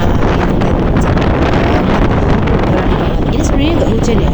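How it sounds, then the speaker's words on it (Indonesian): Strong, gusting wind buffets the microphone in a steady, roaring rush outdoors at Telaga Sarangan lake on an early morning, loud and continuous throughout. "sampai pagi ini masih berlanjut angin kencang"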